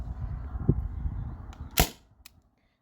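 A T4E TR50 Gen 1 pistol, running low on gas, fires a single shot through a chronograph: one sharp, close crack followed by a faint click, after a stretch of low rumbling handling noise.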